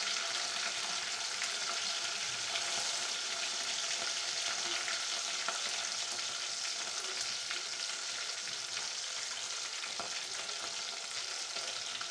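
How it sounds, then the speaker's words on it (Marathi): Onion and ginger-garlic paste frying in hot oil give a steady, bright sizzle with occasional crackles and soft stirring scrapes, close and continuous for the whole stretch, with no talk. "मी तेलामध्ये पहिल्यांदा कांदा टाकला आणि अद्रक लसूण पेस्ट टाकली"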